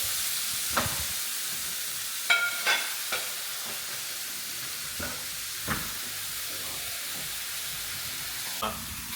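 Chorizo frying and being broken up in a pan for taco night, with scattered scraping stir sounds and light clatter over a steady soft sizzle, moderately close, no talking.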